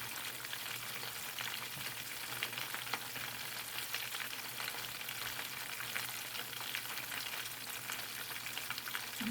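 Mustard-coated catfish nuggets fry in hot grease, a steady, dense sizzle and crackle that holds even throughout, close and fairly quiet, with no talking.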